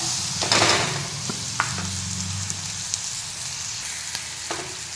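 Onions hit hot oil with cumin and asafoetida in a pan, bursting into a loud sizzle that settles into steady frying, with a few sharp spoon clicks against the pan.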